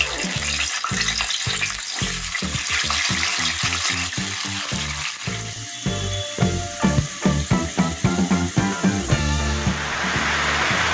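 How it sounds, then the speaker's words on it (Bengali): Potato frying in oil in a pan, loud, bubbling sizzle with stirring and rhythmic scraping clatter growing busier near the end. "এবার আমি আলুটাকে ভেজে নিচ্ছি।"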